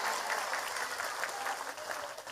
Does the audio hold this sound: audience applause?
yes